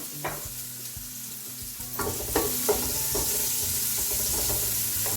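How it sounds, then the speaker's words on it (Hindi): Finely chopped onions fry in oil with a steady sizzle, while utensil stirring and scraping knocks sound at intervals close by, with no talking. "अनियन को हल्का सा फ्राई करेंगे इसमें।"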